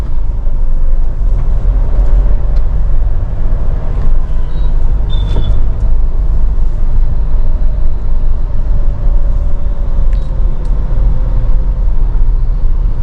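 Car engine running in third gear through dense, slow city traffic, with a steady broadband road and engine rumble, surrounding vehicle noise and a brief high squeal midway.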